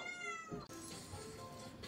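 A cat gives a short, close meow, followed by a brief break and then a rougher, noisier stretch of sound. No one speaks.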